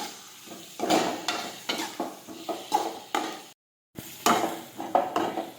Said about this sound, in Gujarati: ફરી પાછું આપણે સાતળી લઈશું.